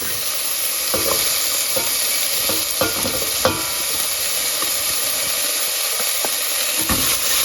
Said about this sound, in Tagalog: Tapos ihulog na natin yung garlic.